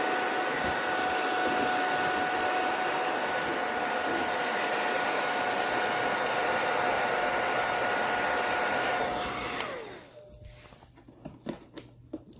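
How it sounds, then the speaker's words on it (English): A hair dryer blows steady, loud hot air onto a stuck joystick panel for about nine seconds, then switches off and winds down, leaving faint scattered handling clicks. "I got my blow dryer and I am just heating it up because my panel is stuck"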